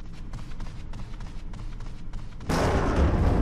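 Thunder in Resident Evil HD Remaster: a low rumbling backdrop breaks into a sudden loud, broad crash of noise that keeps roaring to the end.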